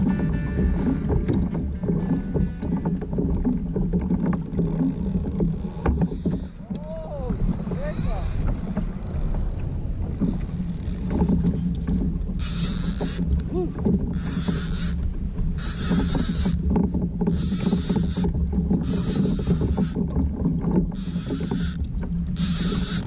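Kayak paddling on calm, flat ocean water off Hawaii while fishing, with steady water and hull noise, wind on the microphone and rhythmic splashy strokes in the second half.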